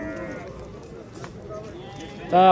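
Sheep and rams are penned at a livestock market, with a low crowd murmur throughout and a sudden loud animal call bursting out near the end, close by, while people talk in the background.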